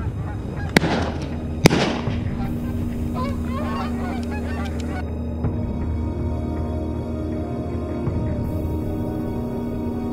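A flock of geese honks steadily through the scene during a goose hunt outdoors, with two sharp shotgun blasts near the start over the continuous calling and wind-like background.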